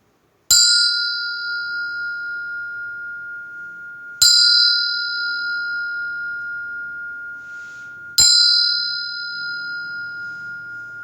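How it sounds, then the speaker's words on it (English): A meditation bell is struck three times at even intervals, each strike ringing out clear and bright, then fading slowly into near silence before the next. "I'm going to ring this bell"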